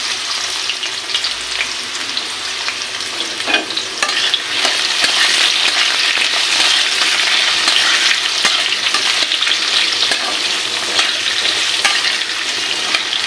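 Potato pieces frying in hot mustard oil, a loud continuous sizzle and crackle with spatula stirring running steadily from start to finish, close up.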